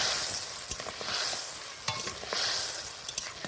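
Eggs dropped into a boiling curry gravy made with raw mango, giving a soft steady bubbling sizzle with faint stirring clicks, close and quiet, with no voices.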